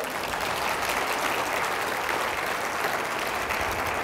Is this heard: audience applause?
yes